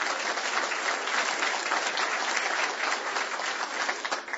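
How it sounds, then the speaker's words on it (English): Dense, sustained applause from an audience at a budget discussion event in Redding, many hands clapping together evenly for over four seconds, full and moderately loud with no break. "give her a round of applause"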